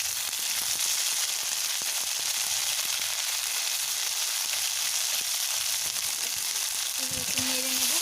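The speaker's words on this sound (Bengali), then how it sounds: "মধ্যে দিয়ে দিলাম জিরা ফোড়ন।" Cumin seeds and ginger-cumin paste frying in hot oil give a steady, even crackling sizzle that holds throughout, with a brief tonal whine near the end.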